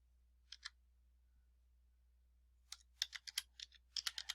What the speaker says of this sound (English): So I start typing AVER